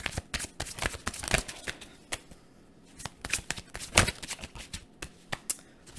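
Tarot cards are shuffled close up in quick, uneven riffles and slaps, with irregular bursts and short pauses.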